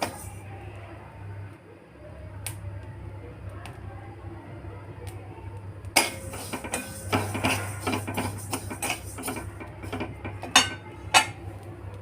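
Chia seeds dry-roasting in a pan: a low steady hum at first, then from about halfway a light, irregular crackle of small pops and ticks, close and fairly soft.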